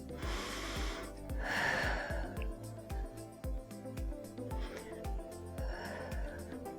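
Deep breathing during a standing workout stretch: slow, audible inhales and exhales, loud and close, over a steady rhythmic thumping backing beat.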